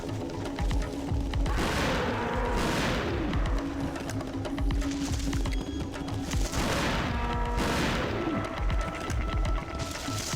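Gunfire in the hunting game Cabela's Dangerous Hunts 2: loud, close shots fired in several bursts, with mechanical clattering and reloading noises between them and no talking.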